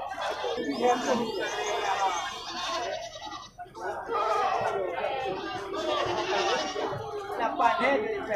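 Male goats bleat in a pen of livestock for sacrifice. Several bleats come in short bursts amid crowd chatter, laughter and someone talking close by.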